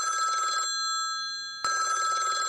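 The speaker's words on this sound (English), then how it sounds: "was the red phone to ring." A red telephone's bell rings in two bursts separated by a short pause, a bright, steady metallic trill heard alone and up close.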